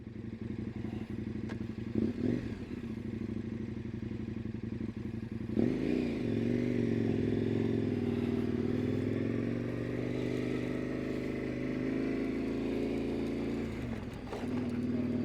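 A KTM 1090 Adventure R motorcycle runs along a dirt road with a steady, droning engine note, while clattering thumps and scrapes from the rough surface break through now and then.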